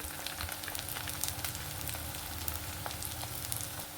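Fish and brinjal curry base frying with turmeric powder just added, a close, steady sizzle broken by small crackles and stirring scrapes that recur all the way through.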